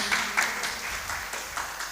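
Steady applause from an audience at a religious sermon, a dense patter of claps at moderate volume throughout.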